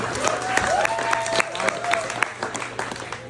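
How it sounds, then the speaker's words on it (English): Applause and scattered clapping from a crowd at a gym's anniversary party speech, with voices and cheering mixed in throughout. "round of applause for Don."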